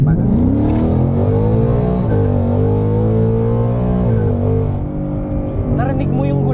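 Ford Mustang GT 5.0 S650 V8 engine revving hard through a downshift from second to first, a loud, sustained, rising and falling engine roar close by, with a brief higher flare near the end.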